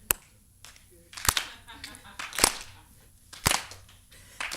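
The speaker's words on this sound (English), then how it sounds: "I might need a little hand clapping so I could do this right" Four loud, evenly spaced hand claps ring out about a second apart, with faint background noise between them.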